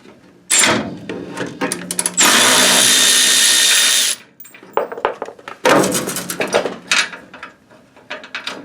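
A power tool whines in bursts while removing a bolt from a Chevy C10 truck during radiator installation, with short trigger pulls, one long sustained run in the middle, then more choppy bursts and clanking, loud and close.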